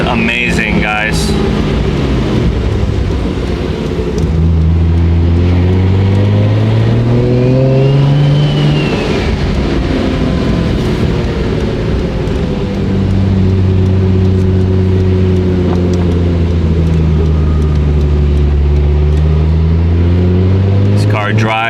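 A 1999 Nissan Skyline R34 GT-R V-spec driving on Los Angeles streets, its engine droning loud and close with rising and falling pitch through gear changes, under steady interior talk.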